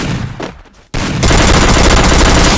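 Gunfire in the mobile battle game Free Fire: a loud, dense stream of rapid shots fills the second half of the clip after a brief drop to near silence, with earlier in-game noise before it.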